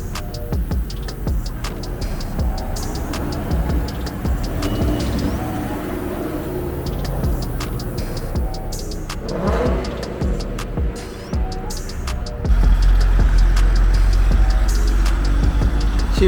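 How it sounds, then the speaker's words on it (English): A Ford Mustang on its stock exhaust with the resonator deleted rumbles nearby, with engine revs rising and falling over traffic-like noise and a sudden louder, deeper burst near the end. "This Mustang just got a resonator delete, so it's not gonna be too loud. It's still the stock exhaust, just a resonator delete."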